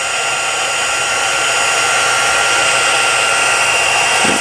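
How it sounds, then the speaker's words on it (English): A heat embossing tool, already warm, blows a steady loud hot-air whir close by for several seconds, melting embossing powder on a stenciled card, with no talking. "it shouldn't take as long because the heat tool's already pretty warm"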